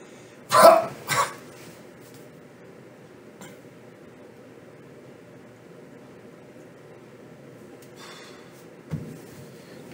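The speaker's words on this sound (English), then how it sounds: "this cough is killing me." Two harsh coughs close to the microphone, one right after the other, followed by a quiet stretch with a faint hum and a soft knock near the end.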